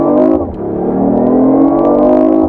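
A car with an inline three-cylinder engine and semi-artificial engine noise played through speakers revs close by, the pitch dipping briefly then climbing and holding in a smooth, droning pull.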